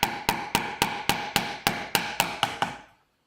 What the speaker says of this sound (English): More of a tapping than a persuading, right?